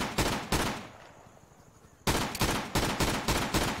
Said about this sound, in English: It sounds like these guys are firing right next to me.